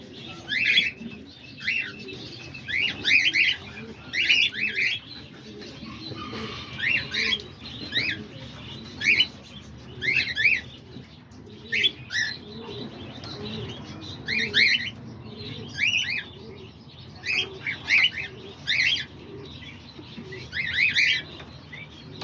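Pet lovebirds, cockatiels and budgies chirp in an aviary, giving repeated bursts of bright, close calls across the whole stretch, with softer cooing and fluttering underneath and no talking.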